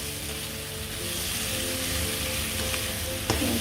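Leftover wholemeal pasta stir-fries in a pan with a loud, steady sizzle and crackle close up. A faint scrape of stirring comes through near the end, and nobody speaks.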